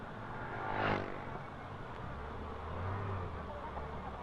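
A car drives along a road, a low steady engine and road rumble that swells briefly as it passes near the start, then settles into a quieter continuous hum with faint background voices.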